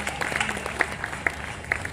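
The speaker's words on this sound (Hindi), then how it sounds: "उनके लिए एक बार जरा जोरदार तालियां बजाएं" An audience at a Hindi comic poetry gathering applauds, a crowd's scattered clapping heard from a distance, fairly faint, with murmuring voices mixed in.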